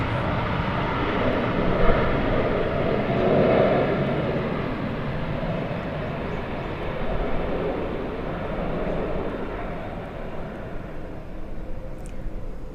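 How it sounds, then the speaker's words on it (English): Vietnam Airlines Airbus A321 airliner at Seoul Incheon Airport, a steady broadband engine roar heard from a distance, holding at an even level throughout with no talk. "It's an Airbus A321."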